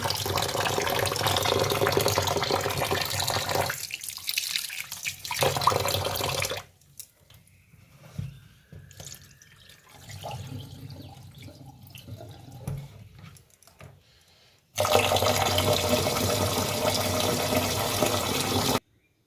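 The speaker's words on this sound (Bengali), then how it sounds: "এদিকে চাল ডালগুলো ধুয়ে নেব।" Rice and lentils rinsed under a running kitchen tap: water gushes loudly and steadily, pauses for quieter splashing and handling in the bowl, then pours strongly again.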